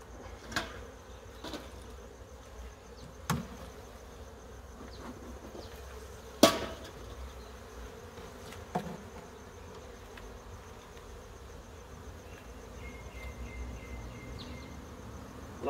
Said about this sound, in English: Bees are working quite nicely in the top at least.